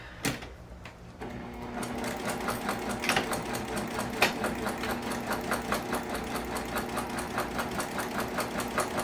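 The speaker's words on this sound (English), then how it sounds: "Let's go ahead and sew these together." A sewing machine stitches sling bag pieces together, starting after a brief pause and running steadily in a fast, even mechanical rhythm of close, moderate-level thumps.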